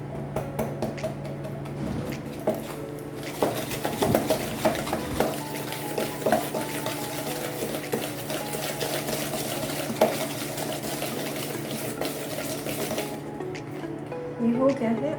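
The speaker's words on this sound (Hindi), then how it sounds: "मुझे शुगर, ऑयल एंड एसेंस तीनों चीज़ें अच्छे से मिक्स करना है" Spoon stirring sugar, oil and essence together in a bowl to make a smooth eggless chocolate cake batter, giving steady scraping and clinking at moderate level throughout, with a constant background hum.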